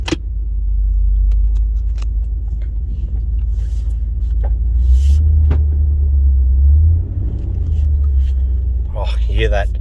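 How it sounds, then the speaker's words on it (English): A Jeep Grand Cherokee WJ with an old viscous-style cooling fan runs with a deep, steady low rumble, close and continuous, with a brief swell in the middle and scattered clicks and faint sounds around it. "you hear that viscous fan?"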